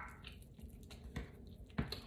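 Water is poured into a jar of chalk paste, giving a few faint, scattered drips and soft squishy splashes close by, ending in a slightly louder wet plop.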